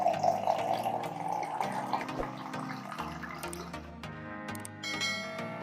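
Strained ginger tea water poured into a glass, a short trickling pour with light clinking, set against a tonal musical background.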